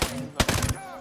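Gunfire in a video game: a tight burst of several rapid, loud shots crackles out in quick succession, then cuts off, leaving a steady hum of game sound behind.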